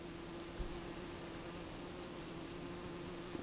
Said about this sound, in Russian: Пчелки литок полируют